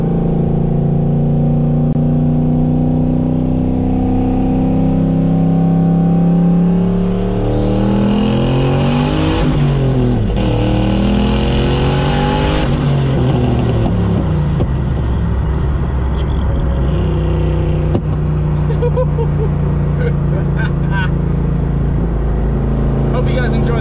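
A loud turbocharged car engine revs hard through rising gears, pitch climbing and dropping with each shift as it accelerates, with a steady roaring drone throughout.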